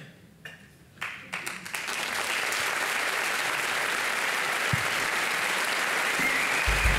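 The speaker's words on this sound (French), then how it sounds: "Merci d'applaudir Souka Inabelage, Fares Bounoua, Fanny Bruet, Valentin Chalut" An audience at a theatre season presentation bursts into applause, starting with a few scattered claps that quickly swell into steady, dense clapping that continues to the end.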